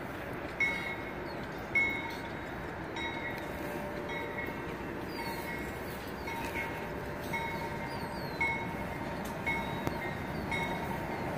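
A CSX freight train rolls past a level crossing, a steady broad rumble of railcars with faint repeated clanks and squeals, heard from nearby outdoors without talk.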